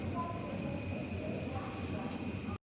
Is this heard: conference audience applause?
no